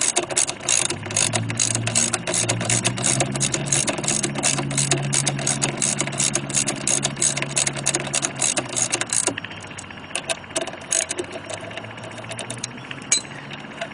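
Brake pad bolts on a Kawasaki Ninja H2 motorcycle being tightened with a ratchet wrench: a fast, steady clicking ratchet, close and loud, that runs continuously and then eases into a few slower, sparser clicks.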